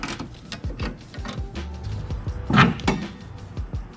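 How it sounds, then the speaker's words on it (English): Small wrench working on the sway bar hardware of a 2005 Subaru STI during a Whiteline sway bar install, giving close clicks, metallic knocks and a brief louder clank near the end, with no talking. "Just got this little wrench in here that fits right in there."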